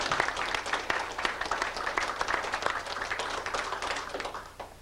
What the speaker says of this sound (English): I would like to recognize Vera by asking you for a round of applause in her honor.